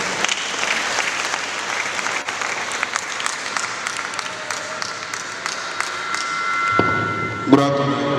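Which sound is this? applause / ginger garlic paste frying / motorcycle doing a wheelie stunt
applause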